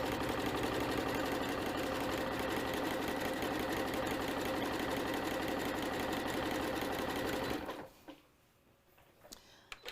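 Sewing machine stitching coiled rope into a bowl, a loud, steady, rapid mechanical chatter running continuously for several seconds before stopping abruptly, followed by faint handling sounds.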